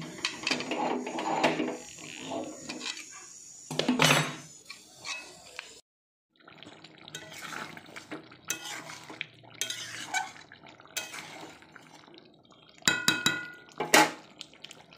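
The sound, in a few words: wok clattering while cooking chicken curry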